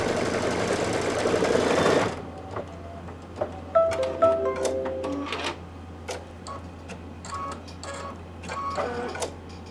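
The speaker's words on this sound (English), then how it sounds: "it's going to do the outline for the beard" An embroidery machine stitches the outline of Santa's beard for a holiday table runner. Loud, rapid mechanical ticking and whirring comes in uneven bursts with small pauses, right up close, after a short stretch of broadband noise at the start.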